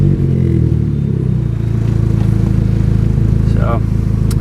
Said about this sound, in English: I'll give it a start, and you can see or listen how the car runs.